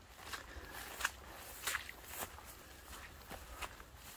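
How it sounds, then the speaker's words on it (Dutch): Someone walks along a trail in the Kampina nature area, soft irregular footsteps at a distance over quiet outdoor ambience, faint and unhurried. "waar Jackie nou loopt"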